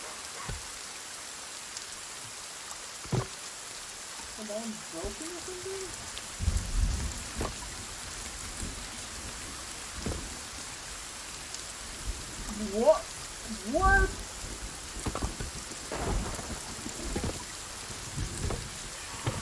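Steady rain pours down loudly, with scattered sharper drips and knocks; a few faint murmuring voices surface briefly under the downpour.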